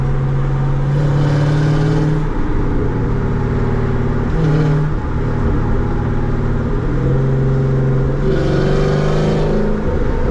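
Steady loud wind roar buffets through an open car window while driving, mixed with engine hum that rises and falls, continuous for the whole stretch with no talking.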